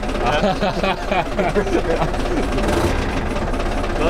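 GAZ 66 expedition bus engine running with a rough, tractor-like clatter, steady and close for the whole stretch, with voices talking over it.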